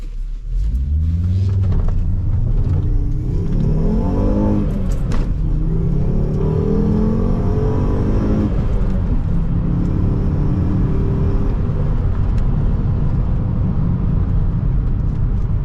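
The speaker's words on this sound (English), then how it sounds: "that 5-cylinder sounds great and very distinctive. Let's do another run through the gears" Volvo C70 T5 five-cylinder engine accelerating hard through the gears, a loud close-up rumbling growl that climbs in pitch, drops at each shift and climbs again, with a steady road roar underneath.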